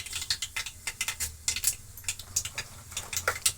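Mustard seeds dropped into hot oil in a pan for bisibele bath, crackling and popping in quick, irregular ticks and bursts at close range, with no talking.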